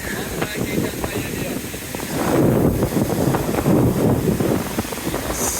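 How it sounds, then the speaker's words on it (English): Strong wind buffets the microphone in gusts on the beach at Calle 38, Playa del Carmen, with a steady rushing roar and surf in the background. "Very windy."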